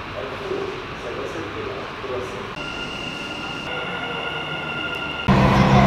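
Steady rumble of a moving train in Dubai with a faint high squeal from the wheels, growing suddenly louder near the end; voices murmur faintly.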